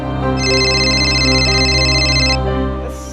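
A phone ringtone plays loudly and steadily, a sustained bright tonal melody that holds for about two seconds before cutting off.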